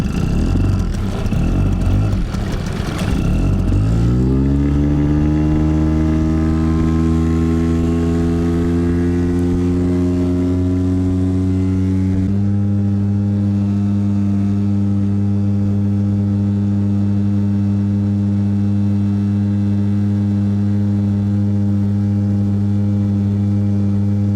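A Tohatsu 5 hp outboard motor pushes a Flagman 380 inflatable boat with one person aboard on the water. Its loud, steady engine drone winds up from a rough start into a constant high-revving hum and holds there to the end.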